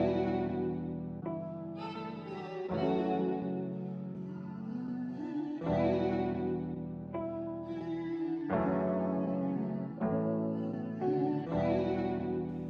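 A layered beat passed through a stereo imager widening only the midrange band, with highs and lows left untouched; full, steady music with chord stabs and dense harmonics, continuous and loud with no talking.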